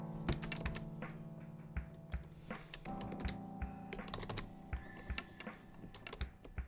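Rapid typing on a computer keyboard during a coding session, irregular clusters of sharp clicks and key thunks with brief pauses, close and fairly quiet, no talking.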